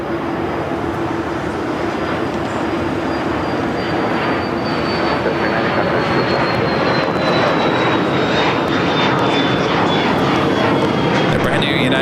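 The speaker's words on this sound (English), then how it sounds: "Singapore and the Star Alliance 777-300ER making its way over to Tom at Bradley" A Singapore Airlines Boeing 777-300ER taxiing at LAX produces a loud, continuous engine roar with a steady whine that slowly falls in pitch, a voice talking over the sustained noise throughout.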